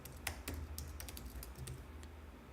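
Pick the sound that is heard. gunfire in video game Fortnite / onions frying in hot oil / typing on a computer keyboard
typing on a computer keyboard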